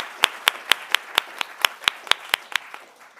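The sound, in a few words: audience applause for award winner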